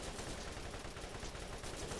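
Rapid gunfire from a gun in the video game Borderlands, a dense, continuous stream of shots with a flat rhythm, fairly faint and steady throughout with no voices.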